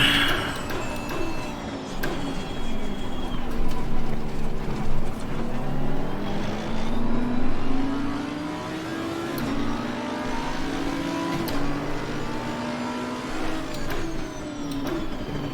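A Lamborghini race car engine in Assetto Corsa Competizione revs loudly and continuously, pitch rising and falling through gear changes as the car accelerates and brakes on track.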